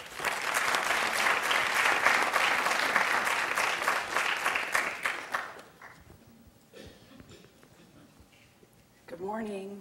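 A conference audience applauds to welcome speakers at a 2014 metastatic breast cancer conference, steady dense clapping for about five seconds, then a quiet room and a voice starting to talk.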